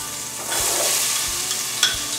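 Diced yellow onion dropped into hot bacon grease for corn and potato chowder, giving a steady close sizzle and frying hiss with a few soft stirring knocks, no voices.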